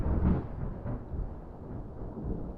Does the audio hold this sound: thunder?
yes